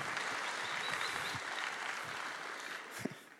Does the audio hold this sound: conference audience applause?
yes